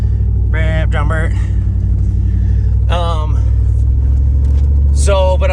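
A Jeep engine idles steadily after being started in the desert, a constant low rumble running through the whole stretch while people talk over it.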